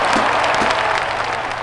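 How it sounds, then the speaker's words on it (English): A studio audience on a late-night comedy show claps steadily, a dense, even patter of applause throughout the short stretch with no voices over it. "Everyone clap, that's very good."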